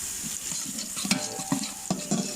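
Onions sizzle steadily in hot oil for chicken pulao while a spoon stirs them in the pan, giving repeated scraping clinks about every half second over the constant frying hiss.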